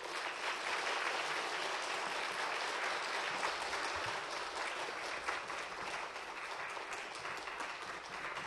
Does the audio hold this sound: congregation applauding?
yes